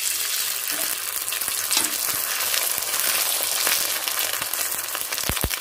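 Wheat-flour papad frying in hot oil, a steady dense sizzle and crackle throughout with a few sharper pops near the end, close and alone with no talking.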